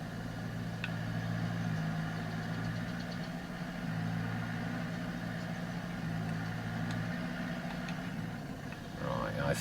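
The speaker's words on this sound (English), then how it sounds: "Now, this has got a nice throaty engine." A tractor engine idles in Farming Simulator 22 with a deep, throaty, steady rumble that holds constant and close throughout, with faint clicks and a small shift near the end.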